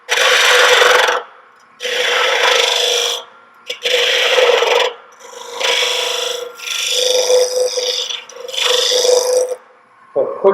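A woodturning tool cuts a tenon on each end of a wooden spiral box blank on the lathe, producing loud rasping scrapes in repeated bursts of about a second each, separated by brief pauses.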